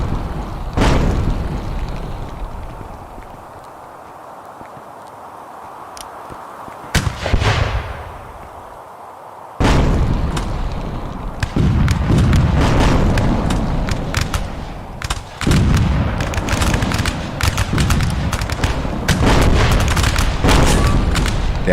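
Artillery guns fire and shells explode in the video game Rise of Liberty: a run of heavy booms, some distant and muffled, others sharp and loud, rolling into dense overlapping blasts in the second half.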